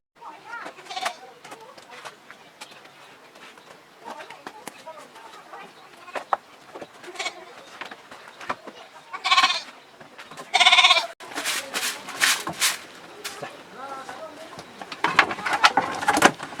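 Goats bleat in a morning goat shed in a mountain village, with several loud, shrill calls in close succession over busy background noise and occasional human speech.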